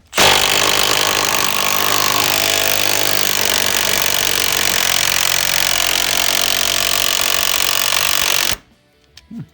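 A loud power tool hammers continuously for about eight seconds while removing the cab mount bolts from a truck during cab removal, then stops abruptly and leaves quiet rattling.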